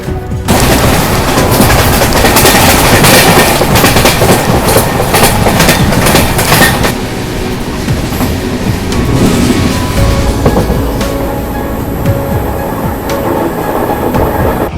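The Panchaganga superfast train from Karwar to Bengaluru rumbles past close by with a steady clatter of wheels on the rails, loud and continuous, easing slightly toward the end.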